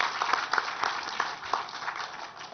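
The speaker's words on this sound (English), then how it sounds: "let's give a round of applause for our speakers" Audience applause for the speakers at the close of a conference session on investment funds, a fairly faint, steady patter of many hands clapping for a couple of seconds.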